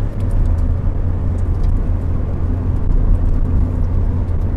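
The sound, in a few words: Ford Fiesta car accelerating on the road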